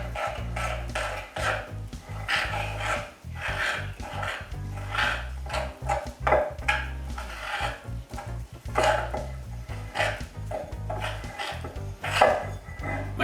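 Wholemeal sourdough bread dough is mixed in a bowl, giving close, uneven rubbing and scraping strokes in an irregular rhythm with no talk.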